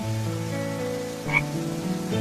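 An animated frog croaks steadily, a dense low continuous chorus of croaking that fills the whole stretch with a brief higher chirp near the middle, with no talking.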